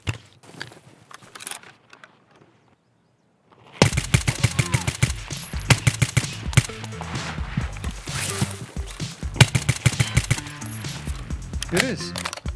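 After a quiet start, rapid automatic gunfire in Escape from Tarkov erupts in long, loud, close bursts of dense evenly spaced shots, broken by short gaps and followed by more sustained firing.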